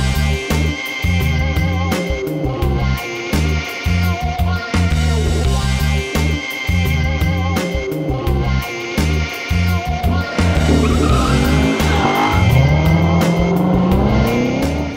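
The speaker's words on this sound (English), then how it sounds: "2014 Corvette Stingray" A 2014 Chevrolet Corvette Stingray drives loud and close, its engine note rising and falling through steady revs with a climbing whine near the end, mixed with musical-sounding harmonics and no talk.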